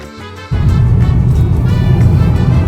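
Car interior on the drive back to Merida in Mexico: a loud, steady road and engine rumble kicks in after a brief quieter moment and continues unbroken.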